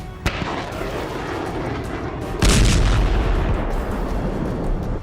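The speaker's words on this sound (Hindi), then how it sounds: "मिसाइलें भी दागी गई।" Iranian warships fire missiles during a live-fire naval drill in the Strait of Hormuz: a sharp crack near the start, then a loud, sustained roaring blast that rumbles on steadily to the end, with no voices.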